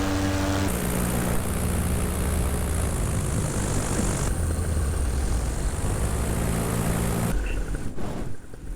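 A Moster 185 Plus MY25 paramotor engine drones loud and close, steady with a few shifts in pitch, then cuts off near the end.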